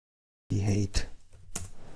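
Typing on a computer keyboard while entering an offset into a dashboard, a few quick close keystroke clicks in a short burst after a moment of silence.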